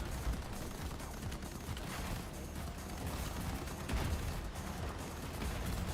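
Continuous distant gunfire in a video game, a steady wash of rattling shots and mechanical clatter that holds at an even level throughout with no voices.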